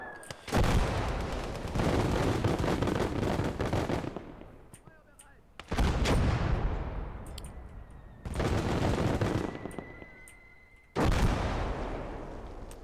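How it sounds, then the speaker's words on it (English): Heavy 120mm mortar rounds fired in the WWII strategy game Call to Arms: Gates of Hell, four loud booming blasts spaced a few seconds apart, each followed by a long rumbling decay. "That'll be the 120mm mortar."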